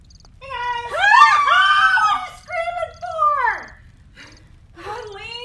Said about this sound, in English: What are you screaming for?